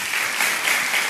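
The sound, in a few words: church congregation applauding for Jesus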